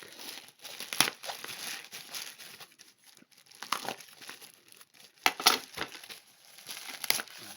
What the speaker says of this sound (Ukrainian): будемо зараз розпаковувати, що ми тут отримали